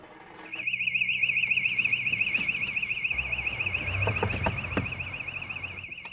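A loud, continuous electronic alarm rings steadily with a warbling high tone, while low rumbling and a few knocks sound underneath.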